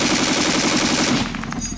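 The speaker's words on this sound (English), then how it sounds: "We are firing M855 Alpha 1, which is the actual military round." A heavy machine gun fires M855 military rounds in one continuous burst of rapid, evenly spaced, loud nearby shots lasting well over a second before cutting off.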